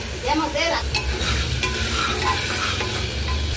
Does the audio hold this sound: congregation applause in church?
no